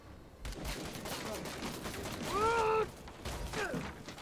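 Bursts of gunfire from Dead Rising 4, moderately loud under a busy game mix, with clattering shots and a brief whistling tone midway, no speech.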